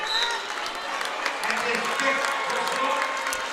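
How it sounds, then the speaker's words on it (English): Home crowd at a Columbus Catholic boys basketball regional game applauding a player who has just fouled out, a steady round of clapping across the gym with a commentator talking over it. "as he gets a nice round of applause from the Columbus faithful"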